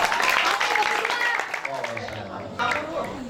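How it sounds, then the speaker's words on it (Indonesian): Audience applause at an evening Islamic religious gathering led by a preacher, a dense burst of clapping that is loudest at the start, then thins and fades with mixed crowd noise. "saling tepuk tangan lah"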